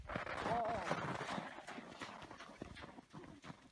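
Horse hooves clip-clopping at a walk in the Dovre mountains, a steady irregular patter of hoof strikes under outdoor ambience, with a faint whinny-like tone early on.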